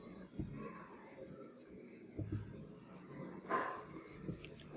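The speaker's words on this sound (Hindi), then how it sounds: "लेकिन यहाँ पे देखो मैं क्या लिखती हूँ" Marker strokes squeak and scratch across a board in a Class 11 organic chemistry lesson, a few short bursts of writing at close range with faint background noise.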